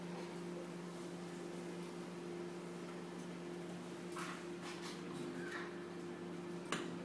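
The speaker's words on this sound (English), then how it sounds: "Can you hear the washing machine?" A washing machine runs indoors as a steady low mechanical hum with a faint drone, quiet and continuous, broken by a few light clicks and knocks near the end, with no talk.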